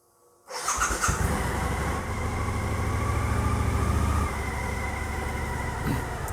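A cold Suzuki V-Strom 1000 engine fires up abruptly and runs at a steady, throbbing idle close by, with a faint whine above the rumble.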